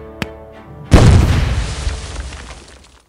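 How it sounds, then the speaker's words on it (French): A grenade explodes in a single loud close boom with a long decaying rumble, preceded by a brief sharp click. "Donc... Grenade!"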